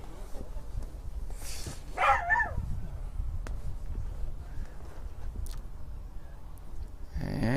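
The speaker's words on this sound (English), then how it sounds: "those dogs, they're going to drive me crazy" Dogs near a cricket ground bark and yip in a brief cluster, moderately loud, over steady outdoor background noise, with a short burst of further sound near the end.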